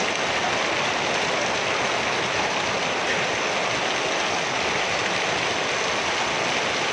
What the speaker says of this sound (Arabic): برد صافي تقريبا.